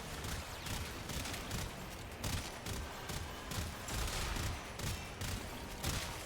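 Rapid bursts of Perigale rifle fire in the shooter game Warframe, loud repeated cracks in quick succession with a dense, booming low end running through the whole stretch, no talking over it.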